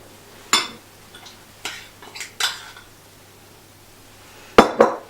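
A utensil stirs beetroot sauce in a bowl, with scattered clinks and scrapes against the dish, a few sharp close taps separated by quiet pauses, and no talking.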